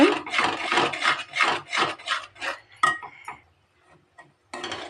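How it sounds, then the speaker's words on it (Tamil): A spoon scrapes and rubs around a pan as kaju katli cashew mixture is stirred continuously, rhythmic rasping strokes close by that fade into near silence before a final scrape. "நல்லா நம்ம கட்டி இல்லாமல் நம்ம கைவிடாமல் கிளறிக்கிட்டே இருக்கலாங்க."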